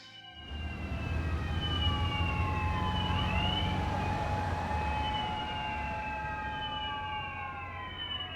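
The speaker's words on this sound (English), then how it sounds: "You're gonna need more than 3 police cars." Police car sirens in the video game Lost Judgment wail steadily, several overlapping and rising and falling over a low rumble, fairly distant and unbroken, with no talking.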